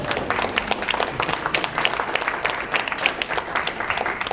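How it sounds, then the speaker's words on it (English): Applause for a woman at a comic con panel, steady dense clapping from a crowd that fills the room at an even loudness throughout. "Give her a round of applause."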